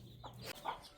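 A hen clucking in an open field in rural Maharashtra, a short burst of a few soft, close clucks over faint background noise.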